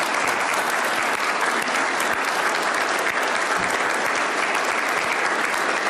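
Crowd applause at a presidential speech in the Palisades: loud, dense clapping continues without a break throughout, steady and close with no pauses.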